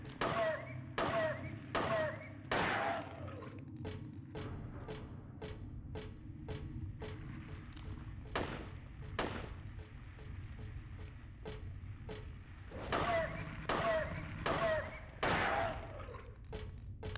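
Gunfire in the Silent Hill 3 video game, a long run of sharp shots fired in bursts and spaced single rounds over a low droning ambience, with faint metallic clinks between them.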